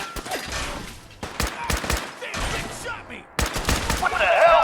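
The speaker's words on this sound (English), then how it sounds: "we're under fire" Gunfire in Fallout 4 combat crackles in rapid bursts of shots, loud and close, over a dense layer of battle noise and effects that swells toward the end.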